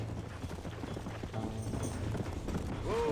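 Hooves clatter in a rapid, overlapping clip-clop as a horse stampede thunders past in the Red Dead Redemption video game, with a steady rumbling rhythm and a brief high whine near the end.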